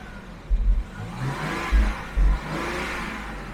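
A V12 engine running on all twelve cylinders revs in a few short bursts, with deep throaty surges rising over a steady mechanical hum, close and fairly loud.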